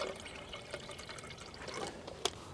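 Water is poured into a Jetboil stove pot outdoors in the backcountry, a quiet trickling and splashing stream with a faint clink near the end.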